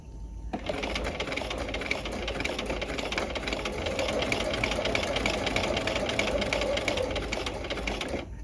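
A sewing machine runs steadily for about eight seconds, stitching the end of a tab welt pocket at a very short stitch length. It makes a continuous, close, fast mechanical whir with no talk.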